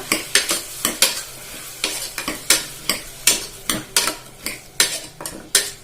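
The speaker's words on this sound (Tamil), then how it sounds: "தக்காளி ஆட் பண்ணிட்டு நல்லா கிளறி விட்டுக்கோங்க" Quick, rhythmic scraping and clinking of a utensil stirring tomatoes in a frying pan, with a soft sizzle underneath.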